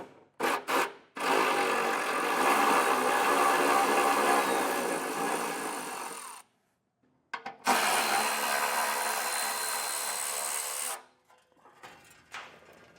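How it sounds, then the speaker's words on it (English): A powered ratchet drives a 10mm socket to remove bolts beneath a 2025 Subaru during a hidden trailer hitch install. It runs in two long, steady whirring bursts separated by a short pause, with brief clicks at the start and end. "I'm going to take a 10mm socket and we'll get all of our bolts underneath here removed"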